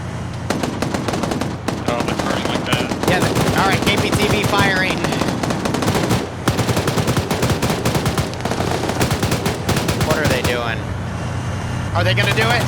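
Rapid bursts of automatic cannon fire from a KPTV armoured vehicle in a combat video game, dense and nearly continuous with louder volleys, under steady talk from players.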